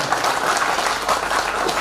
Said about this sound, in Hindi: तो नीलासन इंजीनियरिंग के लिए बहुत जोरदार तालियां होनी चाहिए।